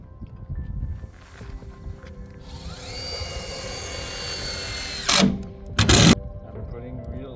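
A power drill drives real screws into greenhouse poly sheeting outdoors, a rising mechanical whir that holds steady for a couple of seconds, then two loud short bursts of fastening noise, with some nearby voice under it.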